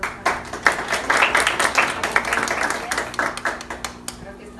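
Scattered clapping from an audience at a workshop talk, uneven and moderately loud, with voices talking over it before it thins out.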